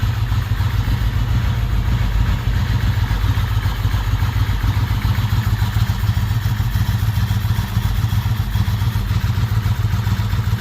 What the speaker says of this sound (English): It's actually a very smooth engine.